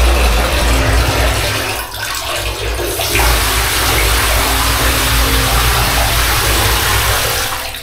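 Water streams steadily and loudly from a shower, a continuous hissing splash with no voices.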